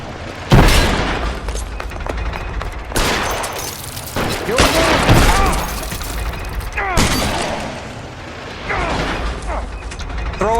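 Rapid gunfire bursts from an L.A. Noire shootout, loud and close, with repeated sharp cracks and clattering mechanical noise across the scene, a shouted voice briefly over the shots.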